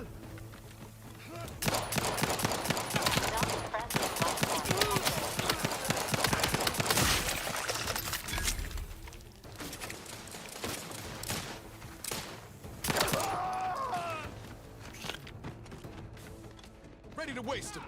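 Rapid, dense bursts of gunfire in The Outer Worlds 2, sustained for several seconds, then broken into sporadic shots and crashes, with voices talking over the shooting.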